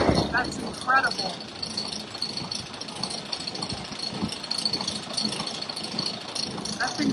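Amusement park ride machinery at Knoebels runs with a rattling, knocking mechanical rumble up close, and a voice talks over it partway through.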